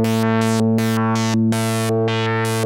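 A 2015 ARP Odyssey synthesizer holds a steady buzzy tone while sample-and-hold LFO modulation on the filter jumps its brightness in abrupt random steps, loud and alone.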